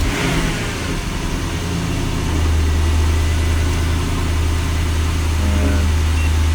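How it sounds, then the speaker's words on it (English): Porsche engine running near and loud: a steady low idle drone holds throughout, rising slightly in level after the first couple of seconds, with no talk over it. "So we'll go ahead and crank the car up here."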